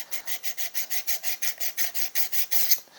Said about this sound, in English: You can just grind that away with the diamond stone. You keep it flat on the stone.